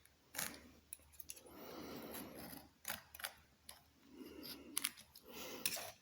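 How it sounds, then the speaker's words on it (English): A knife slicing an anti-slip rubber mat around a socket on a Harbor Freight tire changer, with a series of short crisp cuts and scrapes coming in irregular bursts, close and fairly quiet. "I'm just going to use a knife and just cut directly around that socket"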